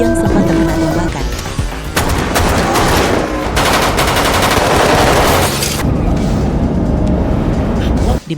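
Gunfire in an action film scene: rapid, loud machine-gun bursts and shots pile into a dense, continuous barrage, with vehicle engine noise mixed underneath.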